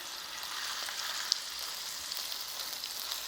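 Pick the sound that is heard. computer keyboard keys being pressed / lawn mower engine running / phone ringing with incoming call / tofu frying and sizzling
tofu frying and sizzling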